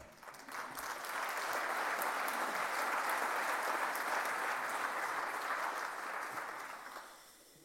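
Sustained audience applause at a speaking contest opening, rising quickly, holding steady and loud for several seconds, then fading away near the end, with no talking over it.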